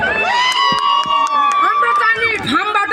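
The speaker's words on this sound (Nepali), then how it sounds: "ल ताली बजाइदिनुहोस् उहाँको लागि" Lively crowd at a Maghi fair cheering and shouting in bursts, with a voice talking over the noise and the crowd staying loud throughout.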